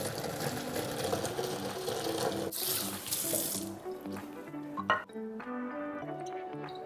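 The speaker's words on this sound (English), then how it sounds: "We have strained them, run some water, cold water over them." Cold tap water runs steadily into a sink over drained cooked nopales, a continuous close splashing rush that cuts off partway, followed by a few clinks, drips and faint background music.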